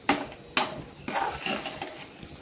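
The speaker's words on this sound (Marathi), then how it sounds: "आता आपण हे चांगला गोळा होईपर्यंत परतून घ्यायचं।" A spoon scrapes and clinks against a kadhai while a rava-besan barfi mixture with ghee is stir-fried, giving three sharp strokes followed by steady scraping, close and fairly loud, with no talking.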